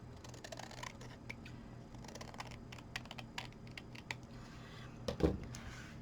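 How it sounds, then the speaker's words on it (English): Scissors snip up the sides of a plain white paper envelope in quick, faint, crisp clicks and cuts, with a slightly louder rustle of paper near the end and no talking. "I'm going to take a pair of scissors, or you could use a blade, and just cut very finely"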